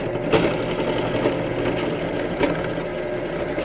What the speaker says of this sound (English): This is just a bench press with just a milling bit in it, that I'm just going to go ahead and cut a channel through this.